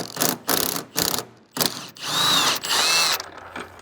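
An impact gun fitted with a socket works a control arm bolt loose on a Porsche 911 997, firing in a series of short loud bursts, then two longer sustained runs, close by.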